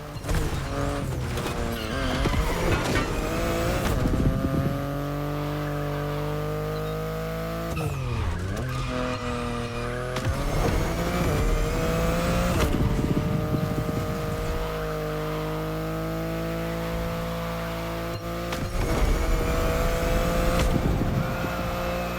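A BMW race car in The Crew Motorfest racing game roars loudly and continuously, its engine rising and falling through gear shifts while tires squeal and skid repeatedly through corners.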